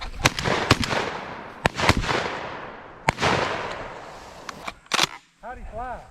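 Sharp shotgun-like reports ring out during a backwoods bird hunt, several loud bangs spaced irregularly across the clip with rustling between them, and people talk in the background near the end.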